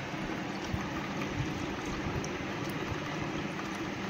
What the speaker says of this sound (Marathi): मस्तपैकी धबधबा वाहतोय बघा